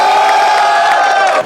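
A live crowd at a desi battle rap event in Pindi cheers and shouts loudly and steadily, a dense, continuous roar of voices that fills the space from start to finish.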